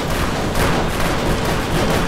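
Revolver gunfire from a Route 666 patrol in the video game Death Skid Marks, a dense, loud, continuous barrage of shots with no voices.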